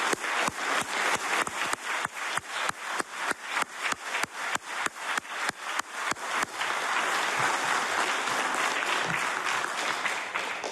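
Audience applause for award recipients at a Treaty Day ceremony: about six seconds of rhythmic, unison clapping in sharp regular beats, which then dissolves into a loud, continuous scatter of ordinary applause.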